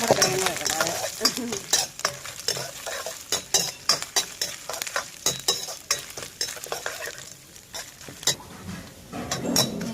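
Mustard seeds and grated coconut fry in a pan, a close, busy crackle of popping and sizzling with repeated sharp stirring scrapes, no voices.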